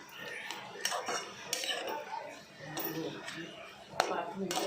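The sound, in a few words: mixing chopped boiled eggs with masala in a pan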